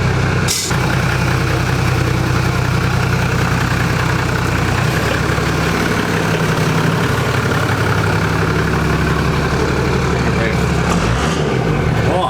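A heavy 4WD engine fitted with a plastic snorkel idles loudly up close with a steady low rumble, shifting in pitch partway through as people talk over it.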